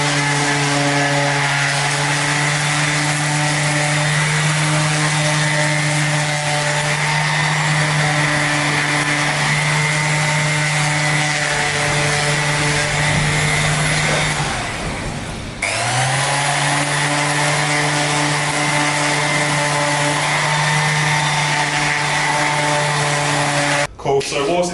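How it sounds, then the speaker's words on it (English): Angle grinder fitted with 80 grit sanding rough chop-saw-cut timber, a loud steady whine held for a long stretch, briefly dipping in pitch under load before spinning back up. "I'm just going to get a grinder with a bit of 80 grit, and then just go over it"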